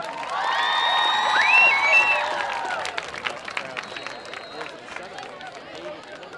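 A crowd at a high school varsity football game, Southeast Seminoles against Wesley Chapel Wildcats, cheers and claps in a loud, swelling roar that peaks and then gradually fades into a murmur, with voices mixed in.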